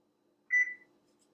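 A single short electronic beep from an oven timer being set while baking a chocolate vegan cake, clear and isolated against near silence.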